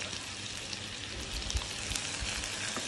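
Chopped onions with whole spices such as green chilli, cinnamon, cardamom and cloves fry in hot oil for egg biryani, giving a steady, even sizzle with faint crackles and soft stirring thumps.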